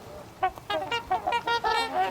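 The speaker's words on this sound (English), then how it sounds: "Those, my friends, are fittingly called trumpeter swans" Trumpeter swans, the heaviest North American bird, give a run of nasal, horn-like honking calls in quick succession, fairly close and clear over a quiet outdoor background.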